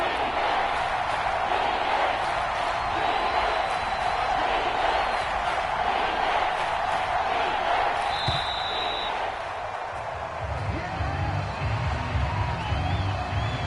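A dense stadium crowd roars and cheers continuously during a football video game, loud and sustained, with faint bursts and whistles over the din and a slight dip near the end.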